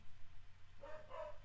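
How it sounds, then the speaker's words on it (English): A dog barks faintly in the distance, two short yips near the end over a quiet indoor hum. "the second I start recording, I hear a fucking dog"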